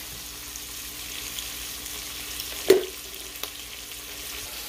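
Peppers, onions and minced garlic sautéing in a pot, a low steady sizzle with a sharp clack of a utensil against the pot midway and a softer knock soon after, no talking.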